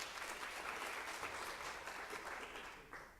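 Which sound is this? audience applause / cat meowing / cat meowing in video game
audience applause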